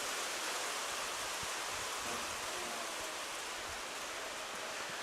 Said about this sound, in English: Is it raining? It is raining.